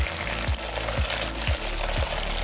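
A hot, thick mixture is stirred in a pan in steady rhythmic strokes about every half second, each pass giving a low scraping swish over a constant loud sizzling background.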